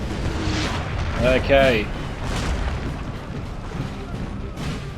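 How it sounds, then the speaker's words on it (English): Booming artillery fire from a Napoleonic battle in Napoleon Total War, rumbling low and continuous in the background with a few louder swells, while someone talks over it. "French army here is under heavy fire there from the artillery."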